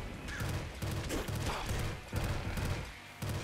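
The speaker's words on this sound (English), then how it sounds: "We've also got the scrap SMG." Scrap SMG fire in Nuclear Throne, short rapid bursts of gunshots repeating in a steady rhythm with brief pauses between bursts, loud and close with no talking.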